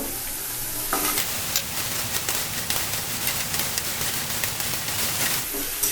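Fried chicken pieces and potatoes go into a hot pan of sizzling oil, giving a loud, dense, steady frying hiss with some stirring scrapes, close up and without talk.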